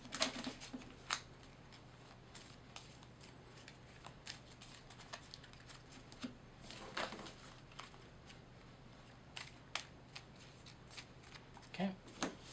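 A deck of game cards is shuffled by hand in short crisp riffles and taps, close and fairly quiet, scattered in bursts with faint talk underneath.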